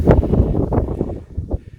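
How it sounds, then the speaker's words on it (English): Strong wind buffets the microphone in low, rumbling gusts that rise and fall unevenly. "it's really windy"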